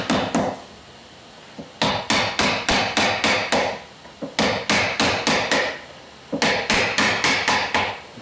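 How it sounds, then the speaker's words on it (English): A hammer strikes wood near the tip of a boat in three loud runs of rapid, evenly spaced blows, each run about six to eight hits, with short pauses between them. "If I hammer that again, it's going to take out the tip of the boat."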